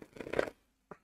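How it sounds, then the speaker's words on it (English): A deck of tarot cards being shuffled and riffled by hand, a brief close rustle of cards lasting about half a second followed by a short soft tap. "let me shuffle here really quick"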